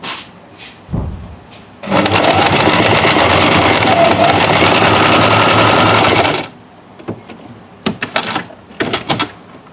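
Close, loud sewing machine stitching a line of fabric along a neckline in one steady whirring run of about four seconds. Short clicks and handling knocks from the fabric come before and after it.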